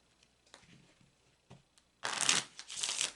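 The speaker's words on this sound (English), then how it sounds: "that sound you hear is my shuffling the deck" A deck of Kipper cards being shuffled, with a few soft card taps and handling sounds, then a loud close riffle burst followed by a second shorter flurry.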